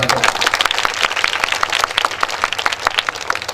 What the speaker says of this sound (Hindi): जबरदस्त ताली बजाएंगे